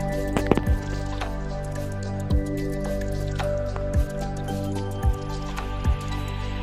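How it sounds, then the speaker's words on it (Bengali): Tangra fish being mixed with oil by hand for a spicy oil-based curry: soft wet squishes at a steady interval, with small drippy sounds in between and no talking. "পরিমাণ মতো তেল এবার আমি হাতে করে মাখে ফেলবো যাতে করে মাছটা আরও টেস্টি হয়"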